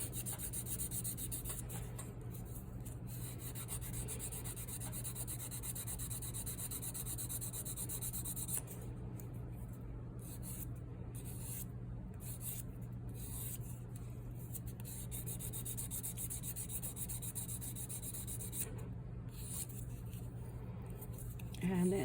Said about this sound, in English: So I'm just going to go ahead and just give the whole thing a little bit of a sanding.